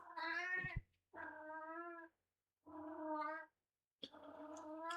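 An unspayed female cat meows loudly and close by in four long, drawn-out yowling calls separated by short pauses, with no speech.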